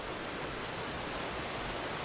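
Mountain creek on 20 Mile Creek in the Great Smoky Mountains, a steady, dense rush of flowing water, close and continuous with no pauses, heard alone without any voices.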